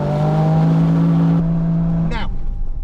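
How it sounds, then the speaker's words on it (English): A Toyota GR Yaris accelerates hard from a standstill on mud, its engine roaring loud and close with rising revs before easing off, ending with a brief squeal. "So now we're going to try 0 to 60 on the mud."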